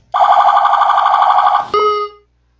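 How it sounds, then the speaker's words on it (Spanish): A loud, steady electronic ambulance siren wail, the pattern used in heavy traffic jams, holds for about a second and a half, then cuts to a short, sharper tone before stopping. "Si la ambulancia pasa por una zona donde hay un embotellamiento tremendo y no puede pasar, emitir este sonido"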